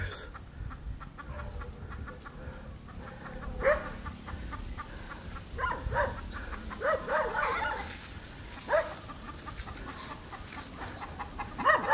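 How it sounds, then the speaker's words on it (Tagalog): Roosters on a game farm's range area, several birds clucking and calling in short bursts near and farther off, mixed with an occasional dog bark, under a steady outdoor background. "Manok na mga ka-roosters."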